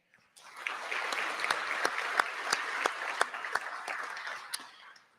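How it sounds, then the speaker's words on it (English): An audience at a United Way Suncoast event applauds for a sponsor, a mid-sized crowd clapping steadily for about five seconds with a few sharp, distinct claps standing out before it fades. "A round of applause, please, for our friends at PNC Bank."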